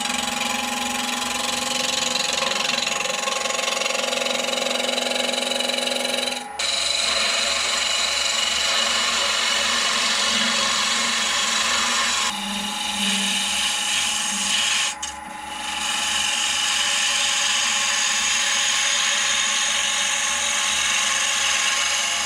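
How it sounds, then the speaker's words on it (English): A roughing gouge cuts a central wood piece spinning on a lathe while a hollow tube is turned. Steady, dense scraping and hissing runs throughout, with two brief pauses where the cut stops. "I can now just use the roughing gouge just to take a big portion of this central piece out"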